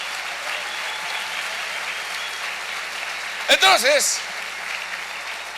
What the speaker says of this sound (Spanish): Un aplauso al Rey bendito.